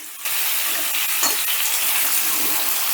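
Cut potatoes dropped into hot oil in a pan, seasoned with a little salt and turmeric, set off a loud steady sizzle that starts abruptly and crackles on without pause.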